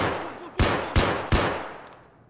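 Three sharp gunshots evenly spaced about a third of a second apart ring out loud and close in Escape from Tarkov, each trailing into a short reverberant tail before the sound fades.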